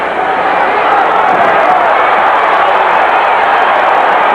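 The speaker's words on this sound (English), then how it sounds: "The crowd got whipped up a little bit as Larry almost lost his footing." An arena crowd at the Larry Holmes vs Tex Cobb boxing match surges into a loud, sustained roar, a dense and steady wall of cheering that holds at full volume.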